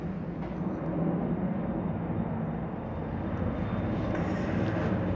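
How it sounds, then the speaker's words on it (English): An airplane passes overhead as a steady, broad engine roar that holds loud and continuous throughout, with no talking. "Oh, that was good timing with the plane."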